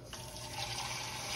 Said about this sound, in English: I'm going to put just a little bit more water in here into the stock.